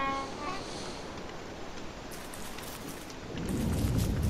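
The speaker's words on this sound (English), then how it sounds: "Oh shit, it's raining." Rain falls steadily in the video game Don't Starve, a continuous hiss with rumbling low swells near the end, no voices over it.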